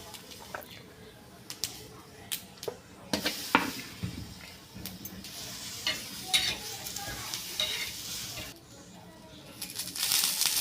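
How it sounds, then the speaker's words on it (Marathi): Green chillies roast on a hot tawa with crackling sizzle and frequent sharp pops and scrapes of turning, close and moderately loud. "आता मी ही हिरवी मिरची टाकत आहे. हिरवी मिरची भाजून घेते."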